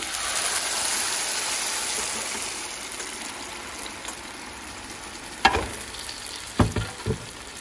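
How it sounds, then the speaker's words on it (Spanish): Tomato sauce poured into hot oil with browned chiles, frying with a steady loud sizzle that eases off, followed by a few sharp stirring scrapes and splashes near the end. "Ya que se doraron nuestros chiles, vamos a poner nuestra salsa de jitomate."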